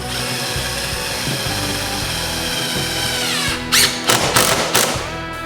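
A power drill whirs in several short, sharp bursts near the end, driving screws into an Osage orange live-edge shelf after a stretch of steady background hum.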